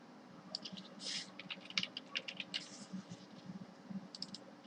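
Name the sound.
typing code on a computer keyboard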